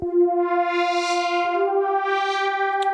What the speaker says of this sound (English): For example, this warm pad, which sounds like this.